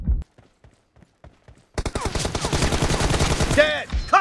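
Rapid bursts of gunfire from the mobile shooter game PUBG Mobile, loud and dense after a stretch of sparse single clicks, with short rising electronic sweeps near the end.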